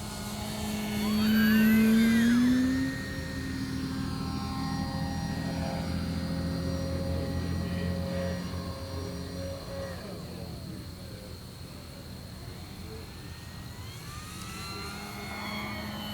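An FMS Ranger 1800mm radio-controlled sport model airplane flies aerobatics over a rough grass field, its electric motor and propeller whining steadily with rising and falling pitch sweeps as it passes and turns, mid-distance under light outdoor noise.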